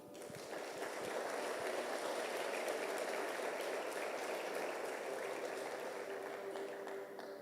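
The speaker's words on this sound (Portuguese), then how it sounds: "Vamos aplaudir Jesus?" Church congregation clapping after a Portuguese-language sermon, a continuous wash of applause holding steady throughout, with faint tonal hum beneath.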